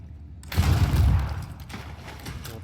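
A gunshot in the video game Banishers: Ghosts of New Eden, fired in a mine: one loud, close blast with a heavy low boom that decays into a rumbling echo.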